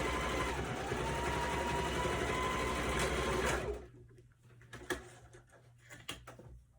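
A sewing machine back stitching a wristlet bag runs in a steady, close mechanical whir for a few seconds, then stops, leaving light clicks and handling taps.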